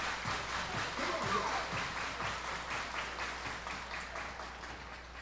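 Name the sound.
stadium crowd clapping hands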